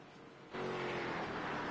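Race car engine in the iRacing sim racing game, a steady loud roar that jumps in level about half a second in and holds a dense, continuous drone with no talk over it.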